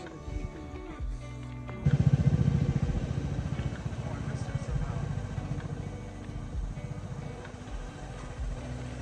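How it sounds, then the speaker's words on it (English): A small 300cc Vespa scooter engine runs and revs nearby, a buzzing, rattling drone that swells after a moment then settles into steady riding. "The little red scooter. It's a 300cc Vespa."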